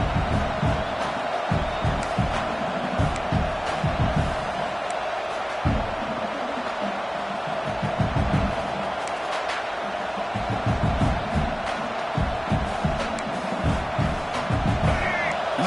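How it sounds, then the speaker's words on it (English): A large stadium crowd at an LSU vs South Carolina football game roars steadily throughout, a dense wash of cheering and noise with scattered thumps and claps underneath, loud and continuous. "Crowd really making some noise now, trying to help out this defense to get this stop near the goal line."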